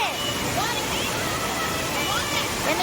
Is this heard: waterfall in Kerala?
yes